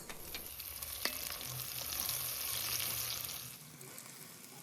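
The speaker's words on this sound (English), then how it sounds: "Then heat up the fat to caramelize the veggies. Add the chopped onion," Chopped onion hits hot lamb fat and fries with a steady, bright sizzle and occasional stirring clicks, fading to quiet near the end.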